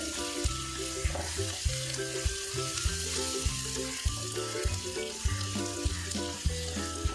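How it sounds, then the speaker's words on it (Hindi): Ginger and garlic fry in a pan with a loud, close, continuous sizzle, broken by regular short knocks or taps of a utensil against the pan at roughly half-second intervals. "मैं अदरक और लहसुन डाल रही हूँ। इसको थोड़ा सा भून लें।"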